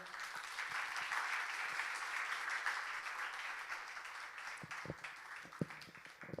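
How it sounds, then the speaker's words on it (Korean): An audience at a lecture on church and city networks applauds to welcome the next speaker, a steady, fairly distant roll of many clapping hands that thins out toward the end into scattered individual claps and knocks. "박수로 맞이해 주십시오."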